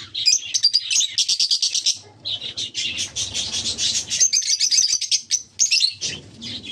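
Flock of green parrots shrieking and chirping loudly and continuously nearby, dense overlapping calls with a brief lull before the racket resumes.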